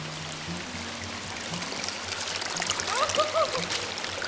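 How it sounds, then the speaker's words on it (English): Released water surges along a freshly dug trench, a steady rushing flow that grows louder and busier toward the end, with some splashing and a brief faint voice in the background. "release the plug and let the water just rip through the trench that we created"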